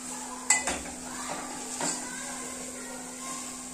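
Spices fry in oil with softened tomato and onion for a prawn rice dish while a metal spoon clanks against the pan a few times over a steady low sizzle.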